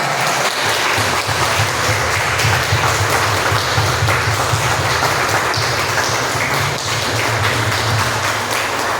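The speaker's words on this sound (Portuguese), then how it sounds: "Agora eu te convido a dar a mais forte salva de palmas ao Senhor Jesus." Loud, sustained applause from a large church congregation, dense and continuous from start to finish, with a low hum underneath.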